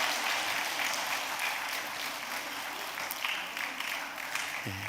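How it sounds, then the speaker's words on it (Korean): Church congregation applauding at a retirement and honorary appointment service, a steady dense wash of many hands clapping throughout, moderately loud and sustained with no talk. "이제 우리 들어가실 때까지 박수 한번 해주시면 고맙겠습니다"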